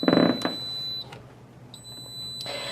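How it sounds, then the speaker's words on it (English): A Breville One-Touch tea maker gives a high, steady electronic beep that sounds for a moment, stops, then sounds again, with soft clatter around it. "You haven't heard the beep yet."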